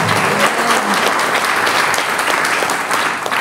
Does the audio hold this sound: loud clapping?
yes